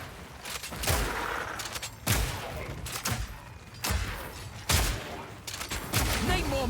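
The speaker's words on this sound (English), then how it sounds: "Placement on the grenades there." Grenades burst in Path of Exile 2, with a Mercenary character throwing them, producing a series of loud, sharp blasts spaced roughly a second apart, each followed by crackling debris, under occasional talk.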